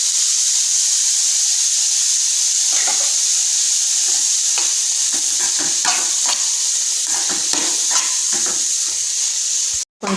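Grated carrot and onion sauté in hot oil in a pan, giving a steady bright sizzle broken by repeated scraping and stirring strokes. The sizzle runs throughout without talk, then stops abruptly near the end.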